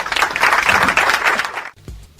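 Applause for Team D during a radio quiz: a short, dense burst of clapping from a group that fades out after about a second and a half, followed by brief quiet.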